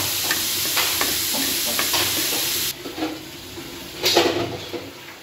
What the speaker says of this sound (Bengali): পেঁয়াজ, রসুন, চিংড়ি এগুলো ভালো করে ভেজে নিয়েছি